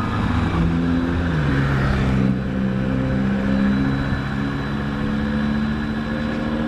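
A Kawasaki Ninja 250 motorcycle engine runs close and loud, with steady low harmonics, a brief rise in pitch as it revs, then a settling idle that holds to the end.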